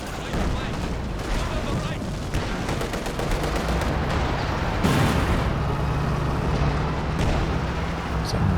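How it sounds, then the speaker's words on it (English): Artillery fire in the WWII strategy game Company of Heroes 2 during a 4v4 battle: a steady, heavy rumble of shelling and gunfire with repeated rapid bursts and a louder blast midway, dense and continuous throughout. "Some major artillery coming down as well."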